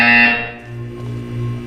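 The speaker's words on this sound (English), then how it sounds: "You will hear a buzzer." A harsh electronic buzzer from the video game Portal 2 blares loudly for a moment and then drops into a lower sustained hum that lingers under a faint synthetic tone, no speech.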